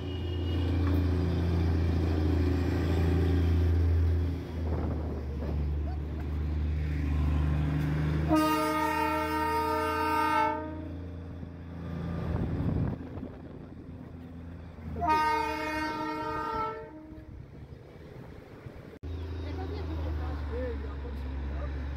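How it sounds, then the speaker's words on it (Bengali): The Darjeeling toy train arrives at Batasia Loop with a low engine rumble and two long, loud harmonic horn blasts, while people talk nearby. "আর একটা জিনিস এখানে এসে একদম কাছ থেকে দেখলাম, সেটা হলো টয় ট্রেন।"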